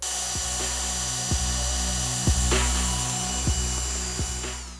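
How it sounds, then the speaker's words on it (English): A power drill runs steadily and close, with sharp periodic thumps roughly once a second as it bores holes while fitting an adventure kit to a Honda CRF450L motorcycle. "Once I drill the first hole"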